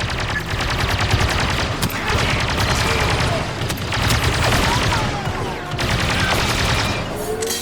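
Dense blaster fire from many directions in a Star Wars Mandalorian battle scene, a loud continuous barrage of zapping shots with booming hits throughout, under scattered shouting voices.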